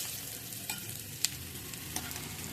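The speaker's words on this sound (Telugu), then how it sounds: "ఆయిల్ కొంచెం హీట్ అయిన తర్వాత పోపు దినుసులు పల్లీలు వేసి లైట్గా ఫ్రై చేసుకోవాలండి." Tempering spices and peanuts fry in hot oil with a steady, close sizzle and hiss, broken by a few sharp pops and crackles.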